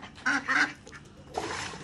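Ducks at a fish pond give two loud honking quacks close by, then go quiet briefly before a rougher, noisier burst of calls and splashy sound rises and runs to the end.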